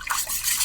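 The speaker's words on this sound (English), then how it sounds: "Now I'm going to use a whisk to blend that together." A whisk stirs thick, creamy dairy-free pumpkin soup in a pot, giving a brief, steady, close swishing and scraping with no talk.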